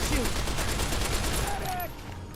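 Rapid bursts of gunfire ring out in a video game, a loud, continuous fusillade of shots firing in quick rhythm, with voices briefly audible in the mix before the volley tapers off near the end.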